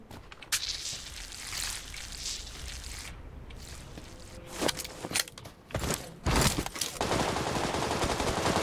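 Gunfire from PUBG Lite on PC, with scattered single shots and short bursts among rustling movement and footsteps. Loudness varies through the clip, with sharper cracks toward the end.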